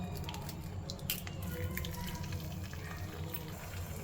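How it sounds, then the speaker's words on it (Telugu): Three eggs frying in a pan of oil with chili powder and salt, giving a steady close sizzle with small crackles and pops throughout. "సో 3 eggs వీటిని కొంచెం ఫ్రై చేసుకుందాం అంతే"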